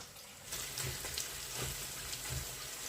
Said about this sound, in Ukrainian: Ось така в смакота смажиться.